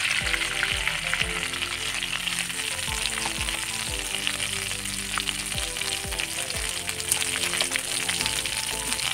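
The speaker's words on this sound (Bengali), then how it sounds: "আর সেই কড়াইয়ের মধ্যে আর অল্প করে সর্ষের তেল দিয়ে দিচ্ছি।" A small amount of mustard oil sizzling in a kadai after prawns were fried in it, a loud, continuous crackling hiss with occasional spatula scrapes against the pan, close and uninterrupted by speech.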